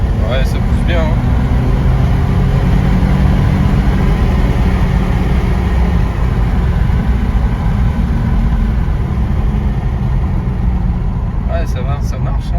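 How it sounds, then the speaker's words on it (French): A Mercedes C350 with a Lorinser exhaust accelerating, heard from inside as a loud, steady low engine and exhaust roar that fills the whole stretch, with brief faint voices at the edges. "Alors on entend bien l'échappement."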